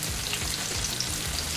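Chicken fried steak frying in 350-degree oil gives a loud, close, steady crackling sizzle with a dense bubbling hiss that stays constant for the whole moment.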